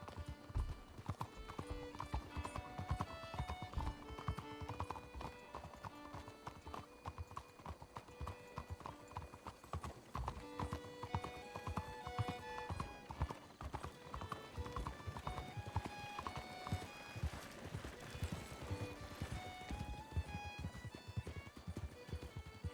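Hooves of a ridden horse clip-clop steadily and continuously, faint and somewhat distant, beneath a bed of background music throughout.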